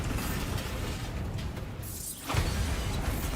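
In Hogwarts Legacy, a Bombarda spell blasts a pillar: dense crunching, grinding debris noise fills the clip, broken by a sharp whooshing burst near the middle before the rubble clatter swells again.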